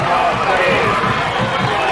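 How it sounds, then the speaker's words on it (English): Monaca fans cheering in the stands after a touchdown run at a 1998 high school football game against Rochester, a broad crowd roar with a commentator's voice over it. "These Monaca fans finally have something to cheer about."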